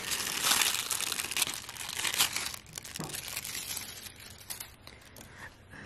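Nail transfer foil pressed and crinkled over gel polish, close crisp crackling and rustling that is loudest at first and then thins into softer, scattered crinkles.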